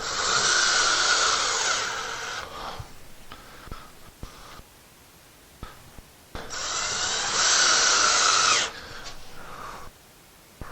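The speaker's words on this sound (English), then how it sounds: "Once again, use the easy anchors. So let's shoot those in." A power drill whirs in two sustained bursts driving easy anchors into a wall while mounting a restroom mirror, with quiet handling clicks between the runs.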